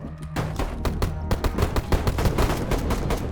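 Rapid bursts of gunfire from the DayZ video game crackle in quick succession, a dense run of sharp shots at moderate loudness.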